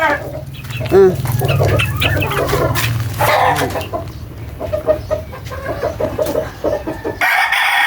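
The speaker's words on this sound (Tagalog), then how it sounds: "Bago ako nagpakain sa aking mga stag, at inuna ko muna itong mga bubit." Young roosters (stags) and chicks crow and cluck close by in a backyard flock after rain, a crow rising early over busy overlapping clucks and chirps, with a voice talking under the birds.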